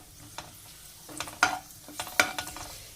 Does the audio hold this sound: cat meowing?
no